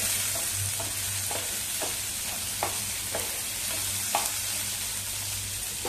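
Green chili spice paste fries in hot oil with a constant bright sizzle, while a spatula stirs it, scraping the pan in regular soft knocks about every half second.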